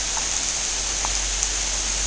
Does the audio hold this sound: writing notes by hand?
no